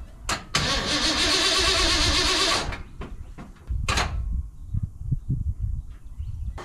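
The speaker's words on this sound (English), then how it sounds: "It's been a few weeks since this truck has been started." A 1982 Ford F150 truck engine cranks and catches after sitting unused for weeks, a loud sustained starter-and-engine roar for about two seconds, then a few rougher bursts and sputters as it settles.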